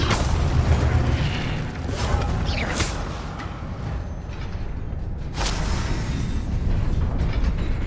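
Incendio fire spell cast in Hogwarts Legacy, a burst of roaring flame with sharp whooshing flares over a dense game soundscape, with a second blast a few seconds later.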